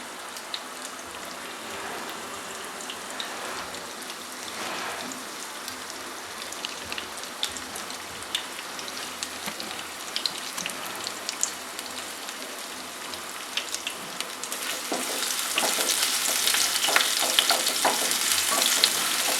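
Chopped onion and dried red chilies fry in hot oil for a fish curry with okra and potato, a steady close crackling sizzle with scattered pops that grows louder and denser toward the end.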